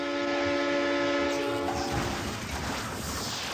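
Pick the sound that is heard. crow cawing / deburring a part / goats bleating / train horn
train horn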